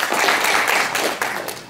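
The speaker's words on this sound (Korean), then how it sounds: "박수 맞이해 주십시오" An audience applauds at a 2014 Jeju forum session on tourism and the horse industry, welcoming a provincial director to the panel. The clapping is a dense, steady wash of many hands for under two seconds.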